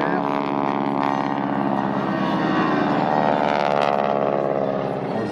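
Aircraft flying at an airshow at La Ferté-Alais, a steady loud drone of engine and propeller noise that holds throughout without breaks, heard close and dominant.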